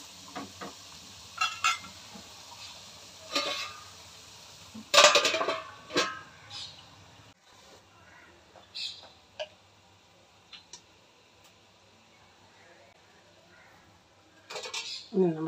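Dishes, pots and pans clatter while being gathered into a basin for washing, with scattered clinks and knocks of metal and utensils spread across a quiet background.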